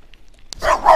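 Dogs barking close by on a street in a mining-town settlement, one sharp yip followed by a burst of loud, rough barks.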